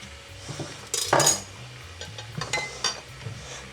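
Metal pot and utensil clinks on a gas stove while oil goes into the pan for a leek and potato soup, a few sharp clanks and taps in the kitchen, close and moderately loud.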